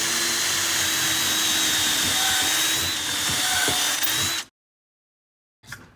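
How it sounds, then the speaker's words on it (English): A power drill bores pilot holes for screws into 2x4 lumber while building a farmhouse bench, a steady whining drone for about four seconds, then silence and a brief final burst. "So we're gonna go ahead and drill pilot holes for the screws."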